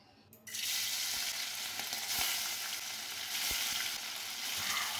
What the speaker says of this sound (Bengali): তেল গরম হয়ে গেছে, এখন মাছগুলো ছেড়ে দিচ্ছি।